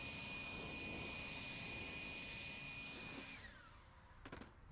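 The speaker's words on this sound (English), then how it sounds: "Still very easy to dry your vehicle with forced air." A forced-air blower dries a vehicle with a loud, steady rushing whine. The whine winds down with a falling pitch near the end, leaving a few faint clicks.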